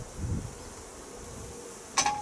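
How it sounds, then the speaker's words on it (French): Honeybees buzz at their hives during a spring inspection, a steady, close droning hum that carries throughout, with a single sharp click near the end. "les abeilles sont bien montées dans la hausse, elles sont en train de faire du miel"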